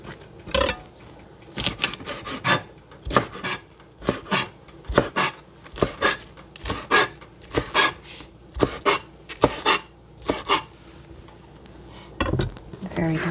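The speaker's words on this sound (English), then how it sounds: "So I've got the Swiss chard all chopped up or thinly sliced." A knife chops thinly sliced Swiss chard leaves on a cutting board for a soup with white beans and pasta, giving a steady series of close, sharp knocks, about one per second, with a quick flurry near the end and no talking.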